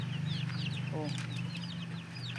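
Derasa chickens clucking close by, several short chirpy calls and a low cluck over a steady hum of background noise.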